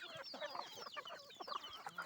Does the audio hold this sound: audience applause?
no